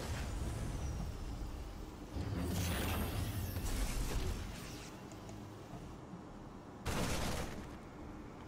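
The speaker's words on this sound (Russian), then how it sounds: "Хорошо взрывается Беллинг-бомба." A Belling bomb detonates in a real-time strategy match, giving broad loud blasts around the two-to-four second mark and again near seven seconds over a constant noisy game soundscape.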